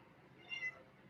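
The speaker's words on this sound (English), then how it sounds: "Thought that was a cat. Yeah, there is a cat." A cat meows once, faint and distant, a short rising cry against low background hiss in a house in Goa.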